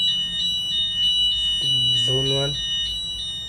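A Zytec fire alarm system buzzer sounds a continuous high-pitched pulsing beep, steady and fairly near, while a voice speaks briefly over it.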